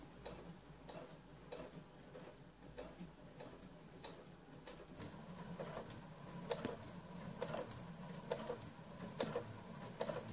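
A Mercury Dela 65 sewing machine stitches fabric under foot-pedal control, giving a quiet, smooth, steady ticking run of needle strokes that grows slightly louder and faster as it goes.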